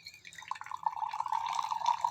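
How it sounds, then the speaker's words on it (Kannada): Water drains from a pot of cooked Korean spicy ramen noodles, a close trickling pour that rises into a steady splashing stream over about two seconds. "ಸೊ ವಾಟರ್ನೆಲ್ಲ ಡ್ರೈ ಮಾಡಿಬಿಡೋಣ"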